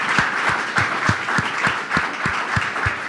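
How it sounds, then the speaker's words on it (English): Audience clapping for panelists at the close of a conference panel, a steady, close wash of applause with a few distinct low thumping claps standing out at a regular pace. "let's give a big round of applause to all our panelists"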